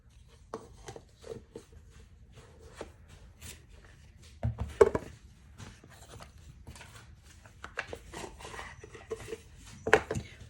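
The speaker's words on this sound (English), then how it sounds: "Cat is giving his scratching post a good work over" A cat rakes a scratching post with rough scratching strokes in irregular bursts, with louder flurries near the middle and at the end, over a quiet room.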